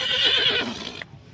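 A horse at the Yeola horse market gives a single loud, close whinny that trails off after about a second.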